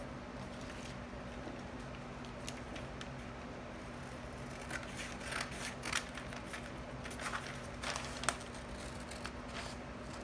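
Scissors cutting through paper along a princess dart pattern panel, with quiet, intermittent snips and rustling that become busier toward the end, faint and close over a steady low background hum.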